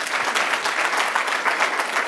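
An audience at a lecture gives dense, sustained applause, many hands clapping at once in a steady, lively roar.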